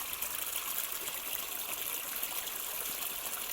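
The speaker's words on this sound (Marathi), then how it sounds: "बघा इथं पाणी पडतंय" Steady rushing water pours and splashes without pause, a close, continuous gushing flow with no voices, irrigation water running into a sorghum field.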